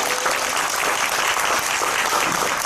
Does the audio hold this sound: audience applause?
yes